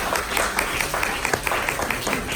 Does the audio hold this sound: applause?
yes